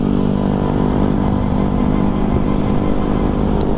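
A stock Yamaha X-Max 250 scooter engine drones steadily while riding, a continuous mid-pitched hum with road and wind noise, loud and close throughout, no voices.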